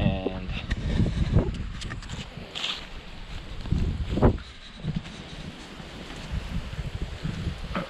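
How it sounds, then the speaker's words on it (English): Gusty wind buffets the microphone outdoors during lime plastering of a wall, in uneven bursts, rumbling and rustling, louder in the first half and easing toward the end. "It's starting to get really windy"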